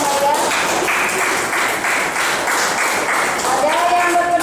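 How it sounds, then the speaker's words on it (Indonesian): Students in a classroom applaud a classmate, a continuous rattle of many hands clapping at moderate loudness, with voices talking over it. "Tepuk tangan dulu untuk teman saya"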